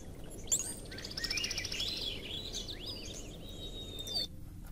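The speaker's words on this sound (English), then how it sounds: "you can now hear birdsong." Birds chirp and trill against a soft, steady background hiss, the songs fairly clear and continuous before cutting off near the end.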